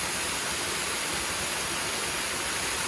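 A waterfall swollen after rain makes a loud, constant rushing roar, close by and steady, with no voices.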